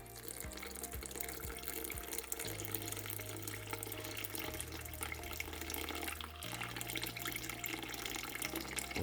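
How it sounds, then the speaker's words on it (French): Water runs steadily from a tap into a pot for sourdough bread dough, a continuous, faint splashing flow with slight shifts in pitch as the level rises. "On va mettre le 495 g d'eau."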